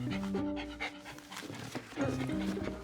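A dog pants in quick rhythmic breaths close by, and a person talks over the sound through most of it.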